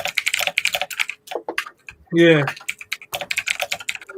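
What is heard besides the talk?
aggressive typing on a clunky computer keyboard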